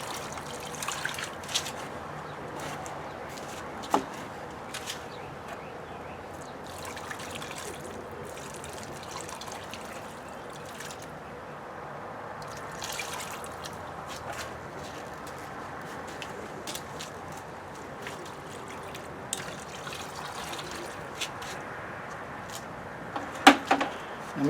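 Well water trickles and dribbles steadily into a DIY dragon fruit planter, a soft, continuous pour with occasional faint drips and small knocks.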